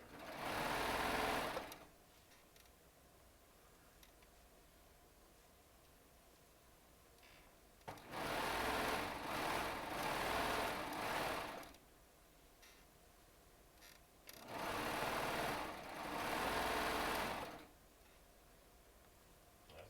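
A Baby Lock serger sews charm squares in three separate runs of rapid, close mechanical whirring, with a few quiet seconds between each burst.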